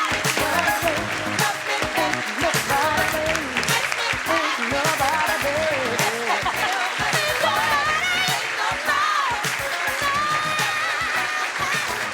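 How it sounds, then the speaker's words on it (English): An audience gives a sustained round of applause for award recipients at an influential women in business event, filling the whole stretch with dense clapping over a bed of voices or music. "We could have one more round of applause for our influential women in business"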